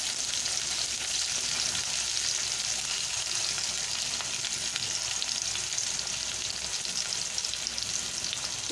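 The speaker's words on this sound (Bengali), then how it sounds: "দিয়ে আলুটাকে ভেজে নিচ্ছি।" Potatoes with salt and turmeric fry in a pan of oil, a steady, close hissing sizzle that stays even and loud throughout with faint stirring, no voices.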